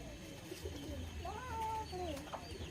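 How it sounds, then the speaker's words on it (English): Pigeons coo on a farm in Jamaica, soft throaty rising calls repeated close by, with a low background murmur and a faint bird call behind them. "So we have pigeons over here."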